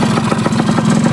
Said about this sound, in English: if your engine is tuned right, if everything is set up, you have no leaks, it should idle like this all day long